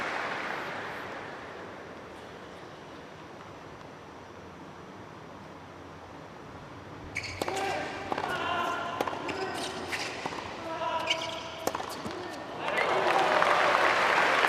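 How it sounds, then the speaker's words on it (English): Crowd applause at a United Cup 2025 tennis match between Flavio Cobolli and Ugo Humbert, starting halfway through and swelling louder toward the end over a low arena murmur. "which is why the round of applause has come"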